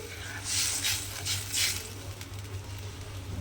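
Fish being stirred with added water in a pan, a utensil scraping in three distinct bursts over a steady low hum, close and moderately loud, with no talk.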